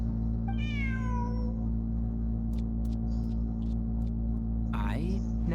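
A cat meows a few times in the video game Genshin Impact, rising then falling cries with a later chirpy call, heard over a constant low game hum with faint soft speech in between.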